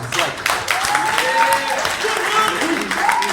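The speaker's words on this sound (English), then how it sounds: "So like, everyone give him a round of applause." Loud applause from a café audience at a hip-hop show, a dense close burst of clapping lasting throughout, with voices and cheers mixed in.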